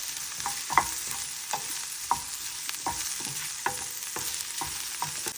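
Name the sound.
sliced coconut roasting in coconut oil with turmeric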